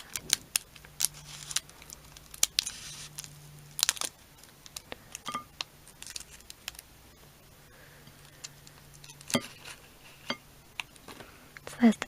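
Hair scissors snip and crinkle through a Kracie Popin Cookin packet close up, giving sharp, scattered clicks and rustles with faint crackles between the cuts.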